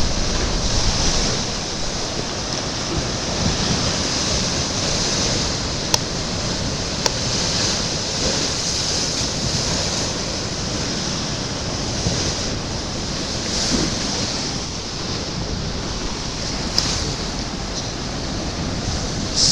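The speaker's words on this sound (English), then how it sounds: "Swell right out there, look." Rough sea waves and swell break continuously along the coast at Filey near Filey Brig, a loud, steady wash of surf mixed with wind buffeting the microphone.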